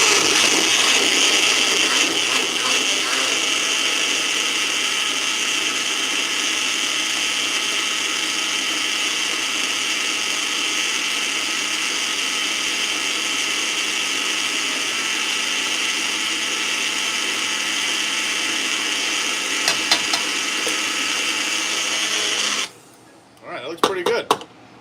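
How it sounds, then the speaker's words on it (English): Loud, steady whirring of a blender grinding tomatillo salsa ingredients in a home kitchen, running continuously for over twenty seconds before cutting off abruptly into a few faint clatters. "this should be in a blender. And this is going to be loud,"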